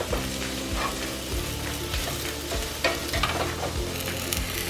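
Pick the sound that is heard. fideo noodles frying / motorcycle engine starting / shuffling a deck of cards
fideo noodles frying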